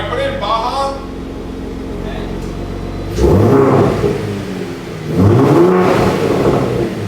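Third-generation Ford Raptor with an AWE exhaust, set in Baja mode, idles low before two sharp revs swell loudly and fall back, the second rev following a short pause, with brief voices at the start.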